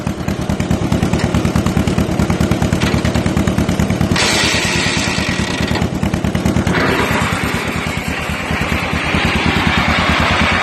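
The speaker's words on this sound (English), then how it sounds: "There's your flywheel turning." A John Deere M tractor runs steadily with its belt flywheel engaged and spinning, a loud, close, rapid engine chug with clattering mechanical rhythm that shifts slightly in tone partway through.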